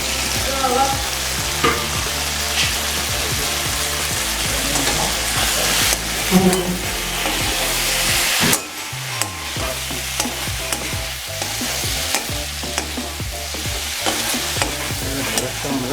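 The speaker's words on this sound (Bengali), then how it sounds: "আলুটা ভাজা হয়ে গেছে, এবার ঢেঁড়সটা দিয়ে দেবো।" Diced potatoes and okra fry loudly in a pan with spices, a constant close sizzle broken by repeated scraping strokes of a spatula stirring, with a brief hiss as new vegetables hit the oil.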